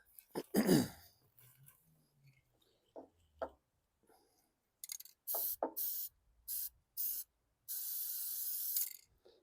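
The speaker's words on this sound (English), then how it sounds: "spray paint the linkage here." An aerosol can sprays paint onto a used lawn mower's linkage in short bursts of hiss, ending in one longer burst, with a cough and a throat clearing near the start and quiet gaps between the sprays.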